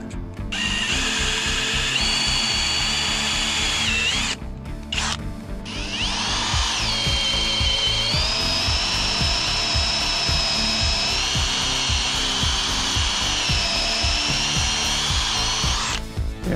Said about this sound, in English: to drill my holes through my posts.